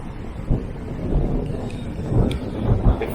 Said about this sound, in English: I don't know whether you can hear me through the wind.